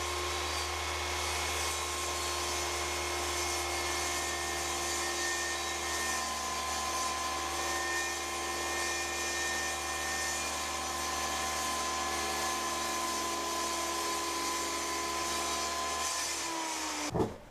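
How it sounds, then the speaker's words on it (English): A table saw rips thin plywood strips to make runners for a sled, its steady, loud whine and broadband roar holding for about seventeen seconds before cutting off abruptly at the end. "All I'm going to do is rip down 2 strips and get them prepared for the slots."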